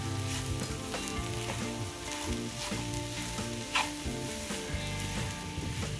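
Sheera sautéing in a pan, with a dense, continuous sizzle and frying hiss and intermittent scraping stir strokes, heard close with no voices over it.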